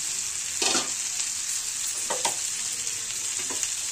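Chicken and potato curry frying in oil in a pot, a steady close sizzle with a few bursts of spoon stirring and scraping.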